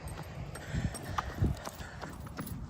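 A horse's hooves clip-clop at a walk nearby, several irregular soft knocks over faint outdoor background, heard during an easy run.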